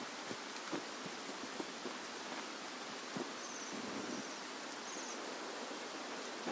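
Steady rain falling in the video game Escape From Tarkov, a soft continuous hiss with scattered faint drop ticks, moderately quiet and unbroken, with no talk.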